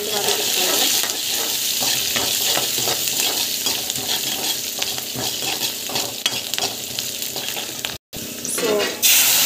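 Onions sautéing with salt and asafoetida in a pan for keerai kadayal, a steady close sizzle with repeated stirring scrapes throughout, briefly cut off near the end.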